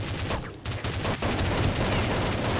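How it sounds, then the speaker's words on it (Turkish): Gunfire in the video game Counter-Strike 1.6, rapid sustained automatic shooting filling the mix, loud and dense with brief gaps between bursts. "Mermiyi her yere attık ana. Adam dışında her yere gitti mermi."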